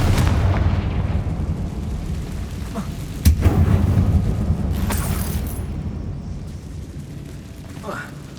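The Confringo blasting spell in the Hogwarts Legacy video game, cast inside an abandoned, accident-closed mine, giving a sharp booming blast followed by a rumbling tail and a few later bursts, with game voice lines around it.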